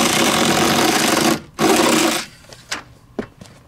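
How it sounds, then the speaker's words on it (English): A power drill with a 3/8 bit runs on the screws of an RV awning arm. It gives a steady buzzing whir for over a second, stops briefly, then gives a second burst, followed by a few faint clicks. "I'm going to use a 3/8 bit to remove the screws."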